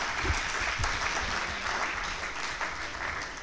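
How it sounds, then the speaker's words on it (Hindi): Audience applause closes a weekly religious discussion gathering, a steady, close wash of many hands clapping continuously with no break. "आप इसके लिए तालियां बजा सकते हैं।"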